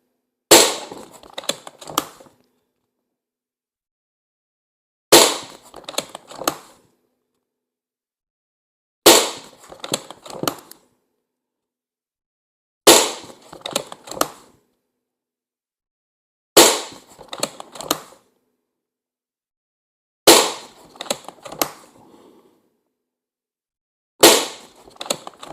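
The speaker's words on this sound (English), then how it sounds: "I'm not taking a lot of time with these shots, this is just purely to show that it is actually usable at this range with these pellets" An Umarex Iconix .22 PCP air pistol firing pellets at targets, seven sharp close cracks spaced about four seconds apart, each trailed by a brief rattle or metallic ring, with no talk.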